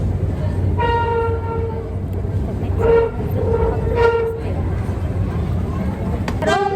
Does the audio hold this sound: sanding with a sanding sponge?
no